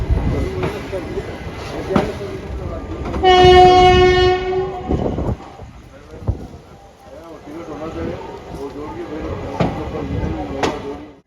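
The Darbhanga Daurai special passenger train departs Narkatiaganj junction in West Champaran, Bihar, its horn sounding a loud sustained blast amid rhythmic clacking of wheels over rail joints, with people talking throughout.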